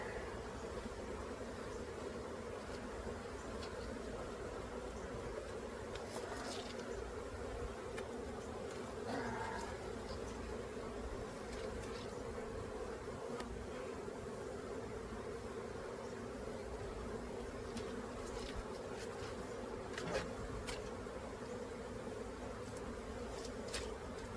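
Honeybees buzz in a constant, droning swarm inside a hive troubled by small hive beetles, a low continuous hum that holds steady from start to finish, with occasional faint clicks.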